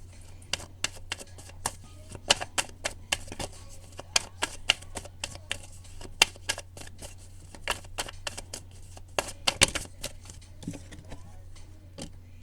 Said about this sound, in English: So I am going to keep shuffling.